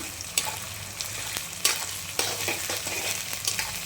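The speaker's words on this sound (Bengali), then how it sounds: "আদা রসুন পেস্টটা যেটা ছিল সেটা এখন কষানো হয়ে গেছে।" Ginger garlic paste fries in a pan with tomato, whole garlic and a little chilli, sizzling steadily up close while a utensil stirs and scrapes in irregular clattering strokes, with no talking.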